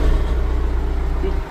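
A 1997 John Deere 310 backhoe's diesel engine idling just after starting at an outdoor auction, a steady, close, rhythmic low chugging throb that continues throughout.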